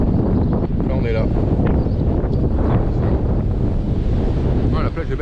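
Strong wind buffets the microphone at a wide beach beside a harbour, a loud continuous roar with surf in the background and a voice speaking briefly in it.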